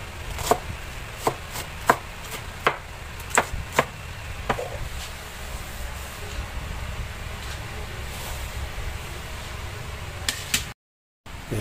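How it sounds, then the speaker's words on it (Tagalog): A knife finely chopping garlic on a cutting board, about a dozen sharp, close taps in an irregular rhythm over steady kitchen background noise, with a short dropout near the end. "Ayan, pinong-pino ang ating niwang bawang."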